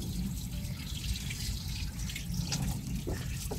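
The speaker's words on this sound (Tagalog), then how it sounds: "Galing sa gripo." Tap water running steadily from a faucet, a close, continuous splashing rush with no pauses and no talk.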